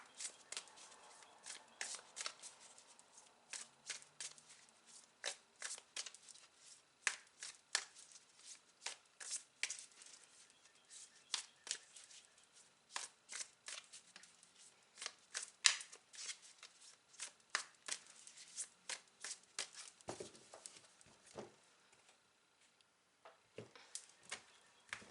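Tarot cards are shuffled close up in a quiet room, giving soft papery riffles and flicks in irregular bursts with short pauses.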